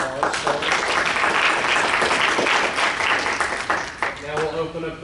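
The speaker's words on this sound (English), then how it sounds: "Another round of applause." Applause from the audience at a liberal arts faculty colloquium, steady dense clapping throughout with some voices mixed in near the end.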